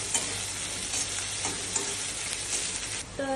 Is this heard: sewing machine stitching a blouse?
no